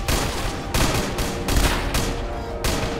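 Dense gunfire crackles through a Minecraft WW2 battle, several loud rapid bursts of rifle and machine-gun shots close by, separated by brief lulls, with no voices.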